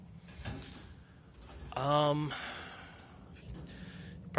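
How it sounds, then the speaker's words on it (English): A single drawn-out wooden creak rises over faint background noise, with a few quieter knocks and shuffles around it. "That sound you're hearing is I'm on some bleachers right now"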